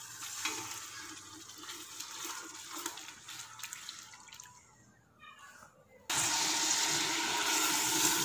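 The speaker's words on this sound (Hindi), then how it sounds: "दही को और मसाले को बहुत ही अच्छी तरह से पका लेना है, इसको हिलाते रहना है ताकि ये नीचे से जल ना जाए" Yogurt and spice masala for a beef kofta curry fry in a pan while being stirred, a soft bubbling sizzle that fades, then jumps to a louder, steady hiss.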